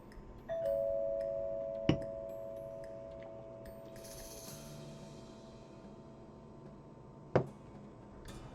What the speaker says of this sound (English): That was a doorbell ringing.